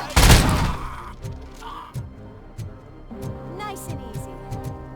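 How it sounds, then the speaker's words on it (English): Several sharp gunshots from RoboCop's gun in the video game RoboCop: Rogue City, a loud opening blast followed by spaced, punchy shots with metallic mechanical clatter between them. "I want to use Robocop's gun. But let's have a listen."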